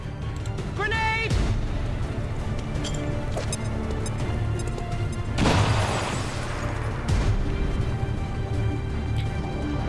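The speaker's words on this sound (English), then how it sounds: "So I'm going to try throwing a frag grenade at this one." A frag grenade thrown in XCOM 2 bursts mid-clip as one loud crashing blast among other game sounds, while a person talks over most of it.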